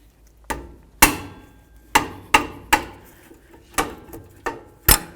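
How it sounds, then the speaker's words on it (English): A rubber mallet strikes the brake caliper bracket bolts on a 2006–2018 Jeep Wrangler's rear brakes, giving about nine sharp, close knocks at an uneven pace. "My rubber mallet. Give this a couple bonks, break it free"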